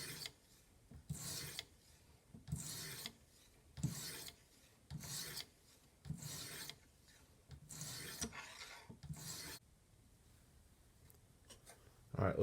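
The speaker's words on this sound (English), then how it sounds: "I have never sharpened a fillet knife on the Tech Studios." Fillet knife drawn over a stone on a TSPROF guided sharpening system: about eight rasping, filing strokes in a steady back-and-forth rhythm, close and moderately loud, then a short quiet stretch with no talk.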